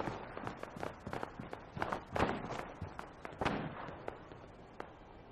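Gunfire in Fallout 4, heard as a rapid scatter of sharp cracks and pops at uneven intervals, some grouped in quick bursts, moderately close with a rough background underneath.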